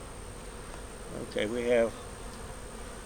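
Honey bees at a hive in South Carolina, a soft steady hum running underneath as someone speaks briefly near the start.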